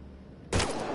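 A sudden burst of gunfire in a PS4 video game hits about halfway through, loud and sharp after a quiet start, then rings on briefly.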